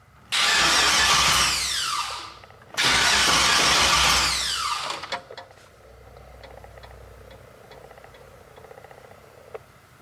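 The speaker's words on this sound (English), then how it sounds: "I may have to adjust the starter a little bit. It sounds like there's something dragging" The starter cranks a swapped 5.3 LS V8 in a GMC Canyon, two loud whirring bursts of about two seconds each with a slight dragging sound, then a quieter ticking and mechanical hum.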